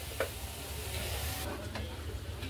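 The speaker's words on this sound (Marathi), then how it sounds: "आता तेल सुटेपर्यंत आपण फ्राय करून घेऊ" Mutton masala with cumin powder and garam masala frying in oil, a soft, low sizzle with a few faint clicks and scrapes of stirring, heard close but quiet and without speech.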